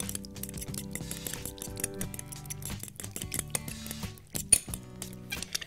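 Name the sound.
whisking vegan Caesar salad dressing with a fork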